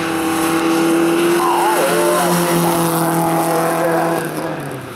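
Race car engine accelerating hard at the start of a sprint race, loud and sustained with rising harmonic engine tones that shift through gears, another car audible nearby, then fading slightly at the end.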